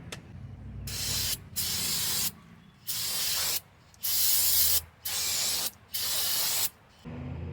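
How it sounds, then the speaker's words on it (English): Seven bursts of brake cleaner aerosol spray hiss close by on a Honda CR-V wheel hub, each a second or so long, separated by brief pauses with faint background noise. "right now I'm gonna spray a brake cleaner here"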